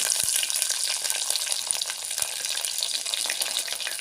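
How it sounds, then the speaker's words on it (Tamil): Fenugreek seeds, dried red chillies and garlic cloves fry in hot oil with a steady, close crackling sizzle, with a few sharp pops and no talk. "கால் ஸ்பூன் அளவுக்கு வெந்தயம் போட்டு நல்லா பொரிஞ்சு வரட்டும் ரெண்டு வரமிளகாய் ஒரு ஏழு எட்டு பல்லு பூண்டு"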